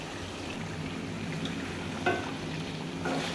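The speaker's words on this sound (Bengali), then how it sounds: "চিকেনটা খুব ভালো করে নাড়াচাড়া করে এপার ওপার মশলাগুলো ভালো করে করে এভাবে নাড়াচাড়া করে দিচ্ছি।" Chicken with spices and fried potatoes is stirred in a pan, a steady soft sizzle running underneath with a few brief scraping clicks from the utensil, fairly quiet and without speech.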